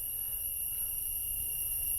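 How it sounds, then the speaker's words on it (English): Steady high insect buzz of a cicada calling on an outdoor walk near the Victory Gate in Siem Reap, a continuous shrill drone holding at an even, moderate level throughout with no talk. "It might be a cicada, I think they call them."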